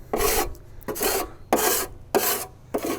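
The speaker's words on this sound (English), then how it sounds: "I just kind of use my putty knife kind of like a snow shovel, and we just scrape" A putty knife scrapes ash across the metal floor of a Traeger Ranger grill in five rhythmic, close rasping strokes, each followed by a short pause.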